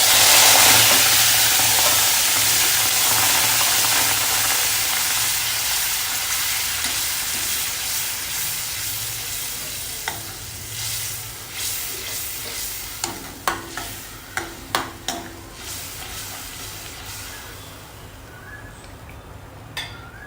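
Tomato paste, made from chopped tomatoes, sizzles steadily in a hot pan while cooking for chole, with frying hiss strongest at first and easing off, then a run of sharp spoon scrapes and stirs near the end.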